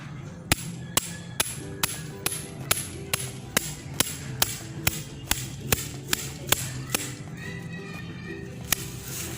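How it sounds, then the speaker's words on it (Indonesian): Steady hammer blows drive a metal earth tester electrode into the ground outdoors, about twenty sharp, evenly spaced strikes, fairly close and distinct, with faint voices in the background. "si elektroda ini dibantu dengan alat palu ya"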